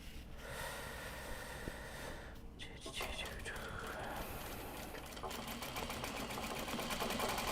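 An industrial sewing machine stitching logo pieces, faint and distant, its rapid needle chatter becoming steadier in the later seconds, with soft breathing or murmuring nearby.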